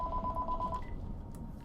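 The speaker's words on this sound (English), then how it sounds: "This phone does not stop." A landline telephone rings in a repeated electronic warble for the first part, then stops and leaves a faint hum, with no talking.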